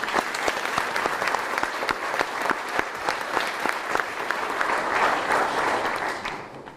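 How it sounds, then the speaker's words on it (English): An audience gives sustained, dense applause for coaches at an athletic director introduction event, steady and close throughout with no talking. "Please stand and let's give you a round of applause."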